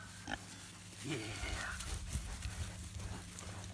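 Pigs on an intensively grazed pasture, with low grunts and a squeal rising over steady background noise, a faint hum and a few distant knocks.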